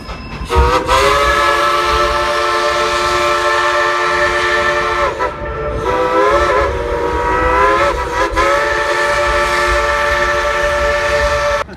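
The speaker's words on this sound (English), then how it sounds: "let's all tell the engineer to blow the whistle." A loud train whistle blows in long repeated blasts close by at Dollywood during a Christmas event, with short breaks between them over rumbling rail noise.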